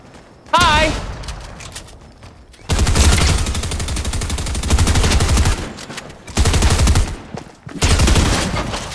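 Loud bursts of gunfire in Fortnite come in several blocks separated by brief lulls, with a voice calling out at the start and speech mixed in between the shots.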